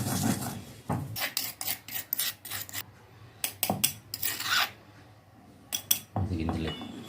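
Roasted mustard and fenugreek seeds are pounded with dried and green chillies for gongura-dosakaya roti pachadi, a run of close, uneven grinding and scraping bursts with short pauses, some hard clinks between strokes.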